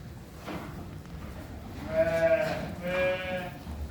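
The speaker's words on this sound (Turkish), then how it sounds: "Şu koyun mesela çok tatlıymış." Sheep on a farm crowd toward feed, with two clear bleats close by after a faint thud and low rustling from the flock.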